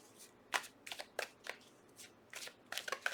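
Tarot cards being shuffled by hand in several quick riffling bursts with short pauses between them, close and crisp, with no talking.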